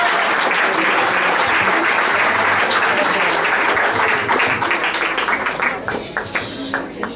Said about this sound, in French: Applaudissements encore,